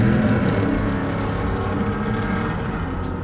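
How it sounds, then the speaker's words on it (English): Loud, sustained engine roar with a steady low drone, fitting a rear-wheel-drive car doing a burnout with revving and spinning tires, continuous throughout at close range. "My guy down there doing a whole ass burnout"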